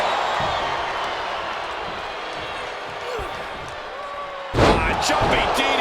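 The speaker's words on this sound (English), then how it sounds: "Sliding forearm to finish the job." A sliding forearm strike lands in a wrestling ring, a sharp slam-like impact near the end ringing out over crowd noise, with an announcer talking beforehand.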